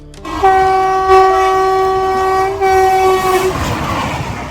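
A loud train horn blares in a long sustained blast, then sounds again briefly, over the rumble of a passing train close by, outdoors near a temple.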